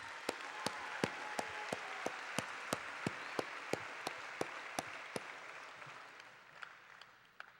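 At a 2014 university fall commencement, scattered audience applause for graduates is led by sharp, evenly spaced loud claps, all fading toward the end.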